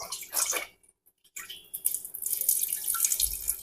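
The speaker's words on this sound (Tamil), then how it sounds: "முக்கால் டம்ளர் தண்ணி ஊற்றிக்கிறோம்" Water runs and splashes from a tumbler into a grinder for idli batter in a steady stream, with a brief pause before the flow resumes, close and fairly loud.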